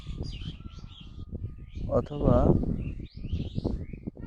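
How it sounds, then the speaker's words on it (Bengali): An uncommon, colourful wild bird gives high chirping calls in short repeated phrases, heard fairly close under a person's steady talking. "একটা আনকমন পাখি। এরকম কালারের পাখি আমি কোনোদিন দেখি নাই।"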